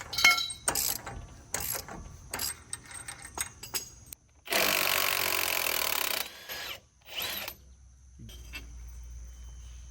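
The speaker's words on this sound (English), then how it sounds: "I'm going to take this spindle nut off." A CV axle spindle nut comes off during a lift kit install on a 2001-2007 vehicle, with short bursts of ratcheting clicks and metal tool clanks, then a sustained loud whirring stretch, followed by a few more clanks and a low hum.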